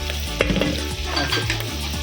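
Garlic and turmeric sizzle in a tempering of hot oil, a close, steady crackling hiss with light utensil scrapes through the short stretch.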